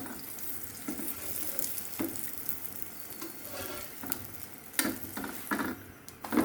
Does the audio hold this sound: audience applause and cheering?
no